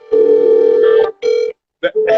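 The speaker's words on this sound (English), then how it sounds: "Then the crazy phone call." A steady telephone dial tone opens a comedic phone-call skit in a hip-hop album track, holding for about a second before breaking into short bursts and clicks, loud and alone with no talk.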